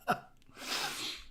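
A quick sharp burst of breath, then a breathy rushing exhale trailing off, like a small sneeze heard up close.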